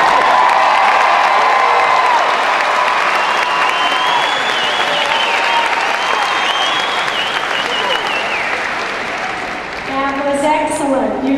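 A graduation convocation audience applauds loudly and steadily for several seconds with a few cheers mixed in, fading slightly before the clapping lifts again at the close.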